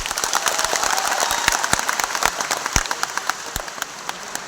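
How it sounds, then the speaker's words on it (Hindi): A crowd at a gathering claps loudly for sister Manjulata, a brisk, crackling burst of many hands with several sharp, distinct claps standing out near the listener. "और भाई बहुत जोर से तालियां हो जाए बहन मंजुलता"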